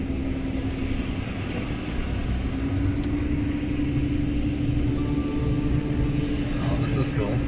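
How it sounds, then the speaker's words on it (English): Vehicle driving on beach sand on South Padre Island, Texas, giving a steady loud engine and road rumble with wind throughout and no pause. "Dave, we're driving on the beach"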